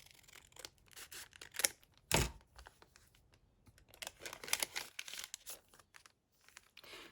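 Paper being trimmed for a small botanical-themed collage of papers and vellums, with scattered close crinkly snips and rustles, one louder crunch near the start, pausing and resuming.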